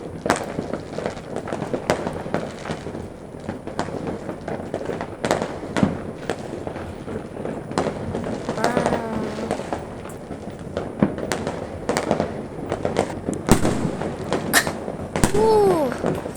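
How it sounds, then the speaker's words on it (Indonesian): New Year fireworks burst nearby in a dense run of sharp bangs and crackles, with occasional whistling rockets, while voices talk and exclaim underneath. "padahal udah ada suara kembang api"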